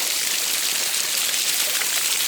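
Water flowing at Dunumale Ella waterfall in Sri Lanka, a steady broadband rush with no breaks, fairly loud and even throughout.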